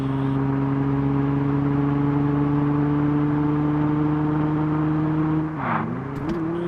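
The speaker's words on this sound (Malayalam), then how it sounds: "നിങ്ങളെ വണ്ടിയുടെ സൗണ്ട് കേട്ട് നോക്ക്" A Mercedes-Benz engine in the Car Parking Multiplayer driving game holds a steady, loud, droning idle hum, then dips briefly and settles back near the end, with no one talking.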